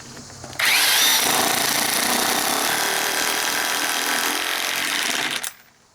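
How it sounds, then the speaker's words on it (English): A Kobalt 1/2-inch corded 8.0 amp electric impact wrench drives a large lag bolt back in, making a loud, continuous rapid hammering buzz for about five seconds that starts abruptly and stops sharply, with no talking. "So now you've seen Kobalt's half-inch drive corded impact for yourself."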